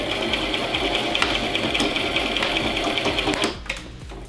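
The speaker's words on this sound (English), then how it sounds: "I'm gonna hit that reverse button, go back and forth a couple times just to make it a nice strong end." Sewing machine back-stitching the end of a curtain seam, a loud steady rapid mechanical whir running continuously before stopping near the end, followed by a few faint clicks.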